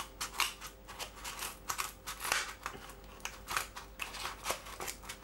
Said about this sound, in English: They're better than some of the scissors we've had on here, cutting through cardboard, I must admit.